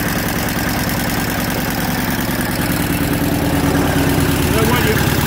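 Vintage 1925 Royal Enfield 976cc V-twin motorcycle engine running steadily at a fast idle, a loud continuous mechanical drone with no pauses throughout.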